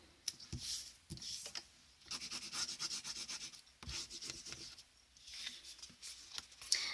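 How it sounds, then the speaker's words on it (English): Tape being burnished down onto a paper mini album, a soft dry rubbing that comes in repeated strokes with brief sharp taps, close and fairly quiet, with no talking. "I'm just burnishing this off, and if you have wider tape I would use that as well"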